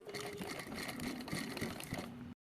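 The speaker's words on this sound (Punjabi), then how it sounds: "ਪੀਕੋ ਵਾਲੀ ਮਸ਼ੀਨ ਦੇ ਨਾਲ ਆਊਟਲਾਈਨ ਕਰ ਰਹੀ ਹਾਂ" A pico edging sewing machine outlining a fabric patch, running as a steady, busy mechanical whir with fast stitching rattle, close and continuous, then stopping abruptly.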